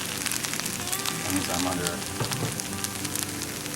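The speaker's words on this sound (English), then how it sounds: "Hear the sizzle." Crackling sizzle of vegetarian fried rice frying in a hot pan, steady and close, with a brief spoken phrase over it.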